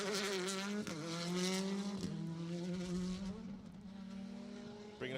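A Hyundai rally car races on a stage at Anglesey, its engine note loud and close, rising and dropping sharply through several quick gear changes with a raspy, high-revving tone.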